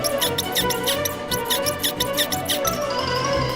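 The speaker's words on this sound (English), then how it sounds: "a squeaky mouse jumped out" A toy mouse squeaking in a toy train story with Paw Patrol toys, rapid repeated high squeaks over a dense, steady background.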